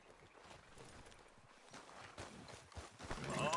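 Horse hooves clip-clop at a steady walking rhythm in Red Dead Redemption 2, fairly quiet and close, with faint ambient sound around them.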